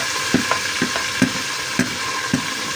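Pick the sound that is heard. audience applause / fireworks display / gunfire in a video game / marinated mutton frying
marinated mutton frying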